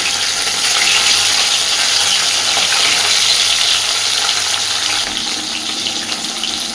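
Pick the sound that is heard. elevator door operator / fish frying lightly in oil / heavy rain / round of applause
fish frying lightly in oil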